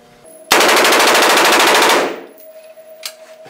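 A fully automatic gun at a rental range fires one sustained burst of rapid shots lasting about a second and a half, loud and close, then stops, leaving a faint background hum.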